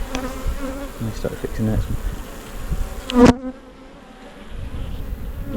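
Honey bees swarm densely around an open hive during an inspection, their loud, close buzzing filling the air before dropping off abruptly, with a few spoken words and handling noises mixed in.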